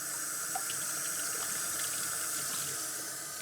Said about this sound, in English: We're going to rinse the dentures off, removing all of the toothpaste.